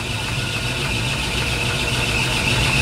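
A small lathe spins an aluminum part at about 2,000 RPM, a steady loud mechanical whir with a constant high whine riding over a low hum, close and unbroken with no talking.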